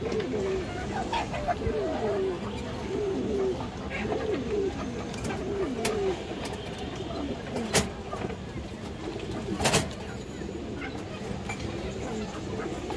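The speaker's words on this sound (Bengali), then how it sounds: "বিগ সাইজের পাল্লা লাইনের দর্শক গড়া নর কবুতর" A big Palla line Gorra male pigeon coos in a repeated rhythmic run of low rolling calls, close by, with other birds and someone talking around it, followed by a few sharp knocks.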